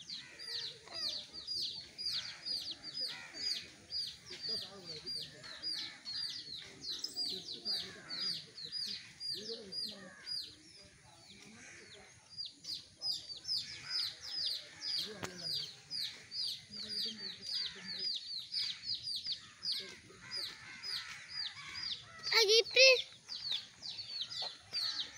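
Small chicks at a zoo chirp in a dense, rapid stream of high peeps, steady and fairly close, with a brief lull midway and a sharper louder call near the end, over faint background murmur.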